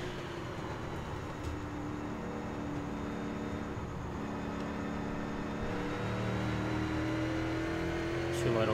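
A street stock race car engine in the iRacing sim at USA Speedway drones steadily and builds gradually as it accelerates. The tone is fairly quiet and sustained, with no talking.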